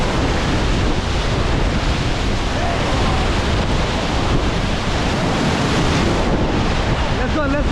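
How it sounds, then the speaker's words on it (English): Roaring whitewater rapids on the Ganges near Rishikesh during a rafting run make a loud, unbroken rush of churning water, heavy with wind buffeting close to the microphone. "बहुत बड़ा rapid है."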